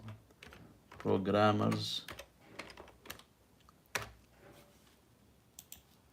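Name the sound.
typing on a computer keyboard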